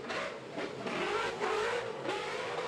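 A drift car rounds the first corner during round 2 qualifying at Dun Laoghaire, its engine roaring loud and close in a sustained, rasping wail that surges and eases in a few rhythmic swells, with no voices over it.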